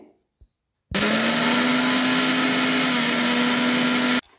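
A blender runs in one continuous loud whirring burst for about three seconds, grinding green chillies, garlic cloves and cumin into a paste, starting and stopping abruptly, with near silence before and after.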